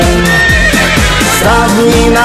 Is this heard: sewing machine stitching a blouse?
no